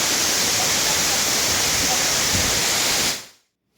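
Hinulugang Taktak waterfall in Antipolo, Rizal, about 21.5 meters high and 25.8 meters wide, pours with a loud, steady broadband roar that cuts off abruptly near the end.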